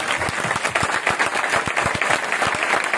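A congregation at a village church convention in Chaharpur applauds, with sharp individual claps standing out in a brisk, uneven rhythm over a full wash of clapping that stays loud throughout.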